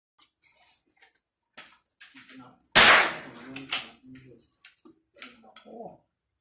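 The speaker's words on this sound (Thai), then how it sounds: "ยิงที่ระยะ 50 เมตร ทดสอบกลุ่มละ5นัด 5 กลุ่มนะครับ" A CZ 457 rifle fires at a 50-metre range: one sharp, loud report stands out midway with a second smaller crack soon after, amid faint background sounds and scattered voices.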